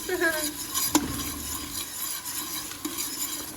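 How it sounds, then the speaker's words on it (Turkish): Steady sizzling of tomato paste frying in a hot pan with a spoon scraping and stirring, one sharp clink near the start, no voices. "Salçamızı da kızartacağız"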